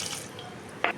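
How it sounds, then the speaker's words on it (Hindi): Water pours into a cooking pot of freshly washed plums, a soft running splash at first and then a short, bright splash near the end, close by with no talk. "पानी डाल दिया।"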